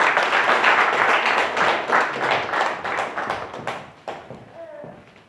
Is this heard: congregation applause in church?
yes